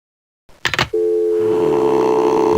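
A steady telephone dial tone in the Windows 3.1 video game Tales of the Wild Zeep, heard after a receiver is hung up. A short clatter of handling comes first, then the continuous tone rings out loud and alone.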